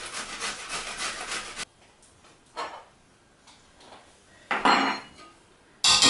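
Shredded vegetable is scraped into a pan holding cooked turkey, giving a few short, close bursts of clattering and scraping against the cookware, separated by quiet pauses.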